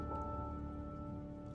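Steady rain falls in a continuous, even wash of patter on surfaces, soft and constant throughout with a faint tonal hum beneath and no voices.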